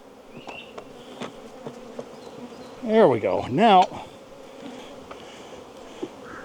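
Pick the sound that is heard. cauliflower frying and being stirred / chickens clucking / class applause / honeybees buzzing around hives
honeybees buzzing around hives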